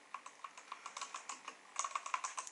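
Quiet typing on a Rexus Legionare MX10 mechanical keyboard, a soft, close series of key clicks in an uneven rhythm that grows slightly faster and denser toward the end, with no talk.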